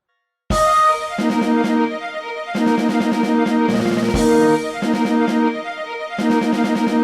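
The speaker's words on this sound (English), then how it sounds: "the melody cuts away, and we're left with only a rhythmic part that sounds like this." A rhythmic motif from the Super Mario Galaxy theme is played with no melody. Bright, clipped chords repeat in tight staccato groups, with short pauses between the bursts, loud and steady throughout.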